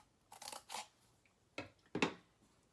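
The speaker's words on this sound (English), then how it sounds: "just cut a little slit in each end." Scissors snipping a little slit into each end of a piece of cardboard for a snowman craft, a few short crisp cuts in quick bursts, close and quiet, with no talking.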